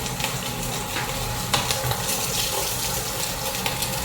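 Garlic sautéing in oil in a pan for a buko vegetable dish, a steady close sizzle and frying hiss with a few brief clatters, with no talk.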